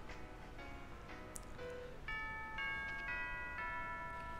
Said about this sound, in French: Oh, c'est la cloche de l'école.